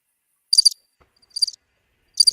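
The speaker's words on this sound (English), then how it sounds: "Am I the only one that heard crickets?" Crickets chirp in three loud, close bursts of rapid trilling, set apart by moments of near silence, with no voices.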